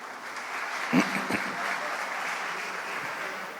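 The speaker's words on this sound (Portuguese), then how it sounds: "Isso aí, palmas para o Eduardo, por favor" Scattered applause from a crowd, a steady wash of clapping that continues evenly throughout at moderate volume.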